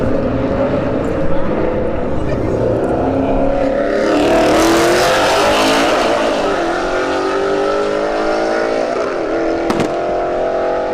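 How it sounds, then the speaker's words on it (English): An S197 Mustang and a Mark IV Supra launch side by side in a drag race at a motorsports park, with a loud sustained engine roar that rises as both accelerate down the strip and crowd and track noise underneath. "S197 Mustang versus the Mark IV Supra."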